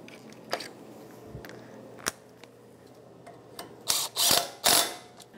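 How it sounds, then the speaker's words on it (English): Ratchet tightening a hose bolt with a 12 mm socket during a front brake job on a 2010-2023 Toyota 4Runner, a few scattered clicks followed by several loud, close ratcheting bursts near the end. "I'm gonna tighten that down. That's a 12 millimeter socket."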